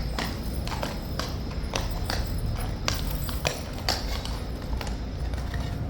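Horse hooves clop repeatedly on a hard yard surface, a steady series of sharp knocks over constant background rumble, fairly close with no talk.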